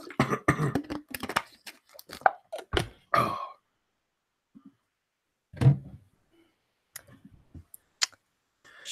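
A few short, sharp coughs from a person during a casual podcast-style chat, arriving in separate bursts with quiet gaps between them, close to the microphone.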